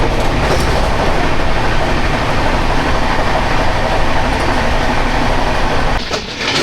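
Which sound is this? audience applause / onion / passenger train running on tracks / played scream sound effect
passenger train running on tracks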